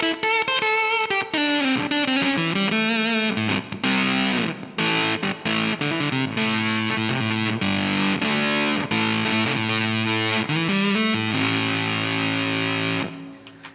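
Electric guitar through a KingTone MiniFUZZ Si silicon fuzz pedal, played on the humbucker with stabbed, choked notes of little sustain; a loud, buzzy, distorted riff of short clipped phrases, alone without talk.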